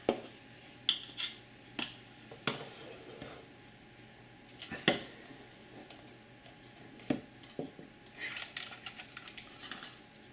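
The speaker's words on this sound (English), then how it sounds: "I think I'll just put that in my little screw bowl there" A small removed sensor part from a 350 QX3 AP Combo quadcopter is dropped into a little screw bowl during a rebuild, giving scattered sharp clicks and light clinks up close at a quiet level, with no talking.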